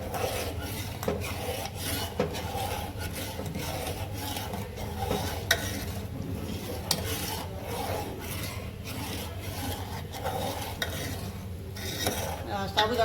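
A spoon scrapes and stirs sago pudding with ghee in a cooking pot, a steady rasping, rubbing sound that continues for several seconds, close up, with no talking.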